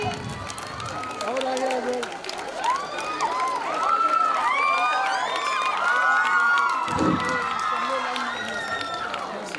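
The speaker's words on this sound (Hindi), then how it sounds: "तालियां को बीच में ना रोके।" A school crowd at a farewell event for the graduating batch claps and cheers, a lively mix of applause, shouts and children's voices that swells and carries on under overlapping chatter throughout.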